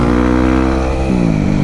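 A motorcycle engine revs hard and steadily for a wheelie attempt, loud and close, with the pitch dipping briefly before holding high again.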